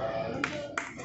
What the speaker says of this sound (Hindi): हाथ ताली बजाओ भाई इसके लिए।